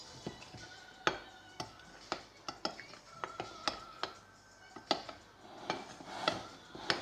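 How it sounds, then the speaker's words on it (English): A utensil mixes baking soda and cornstarch in a bowl for bath bombs, producing a run of sharp close clinks and taps at an uneven rhythm with soft scraping between. "She's got the baking soda and the cornstarch in there. So now she's going to mix that together"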